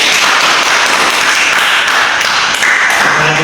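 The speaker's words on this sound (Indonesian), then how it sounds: "Kita beri tepuk tangan untuk kelompok 1." Classroom applause for a student group during a micro-teaching practice lesson, loud close clapping from several people in a continuous dense burst, with a faint tone near the end.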